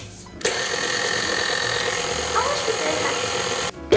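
An electric mixer works dough made with flour, baking powder and salt, giving a steady, close motor whir that runs for a few seconds before cutting off.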